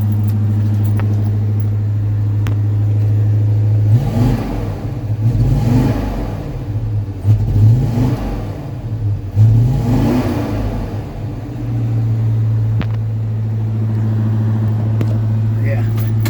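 A 1978 Chevy K30 truck engine idles with a deep steady rumble, then revs four times in rising and falling surges through the exhaust before settling back to idle, recorded close by with talk over it.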